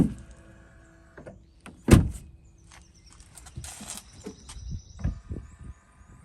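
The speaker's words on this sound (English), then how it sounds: "The motor should work when we open the door" A car door on a 4th-gen Ram pickup opens with a solid thunk as a Lumastep power running board motor deploys, giving a brief whirring hum among scattered clicks and rustles, close by and moderately quiet.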